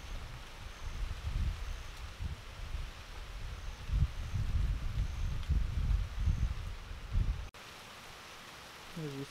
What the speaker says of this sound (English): we are seeing some strong wind gusts with a couple of these storms that have just popped up